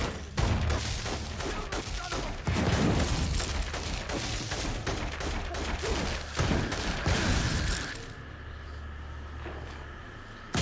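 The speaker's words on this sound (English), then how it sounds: "I heard shots." Dense bursts of gunfire crackle through a firefight in the video game InFamous Second Son, loud and near with overlapping volleys and heavy low booms, easing to a quieter rumble near the end.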